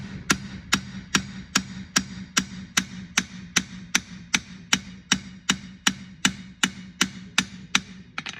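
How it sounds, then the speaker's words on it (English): A hammer sets a metal rivet on a frame part with about twenty sharp, evenly spaced taps at close range, one every half second or so. "That little hit is enough now to lock that rivet in place."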